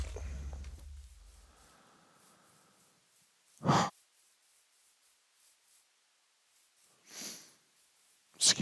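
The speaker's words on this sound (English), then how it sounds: "Excuse the sniffle there." A faint sniffle comes through close to the mic during a hardcore vanilla Minecraft session, with short breathy sniffs standing out from an otherwise quiet room.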